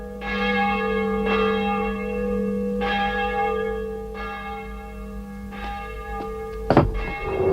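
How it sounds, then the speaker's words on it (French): A church bell rings alone in slow, evenly spaced strokes, each long ringing tone overlapping the last, loud and near, ending with a sharp clatter. "Pourquoi la cloche sonne-t-elle?"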